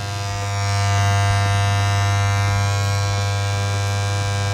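Wahl Super Taper hair clipper, a KW copy, running steadily with a loud, close electric buzz and strong hum that swells slightly after the first half second and holds without talk.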